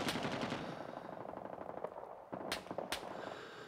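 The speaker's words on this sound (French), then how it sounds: "Des tirs, hein, je sais pas d'où." Bursts of automatic and single gunfire in the Vietnam War shooter game Rising Storm 2: Vietnam crackle at moderate distance, with rapid rattling volleys followed by a few sharper isolated shots.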